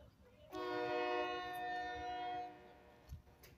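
A scenic railway train at Little Ridge Scenic Railway sounds a loud, sustained multi-tone horn for about two seconds, with rumbling track and engine noise under it.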